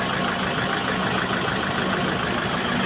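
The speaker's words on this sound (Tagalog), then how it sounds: "yan tinog sa makina" A Mahindra vehicle's engine idles just after an oil change, a steady, close, continuous hum with a low rumble that holds even throughout with no voices.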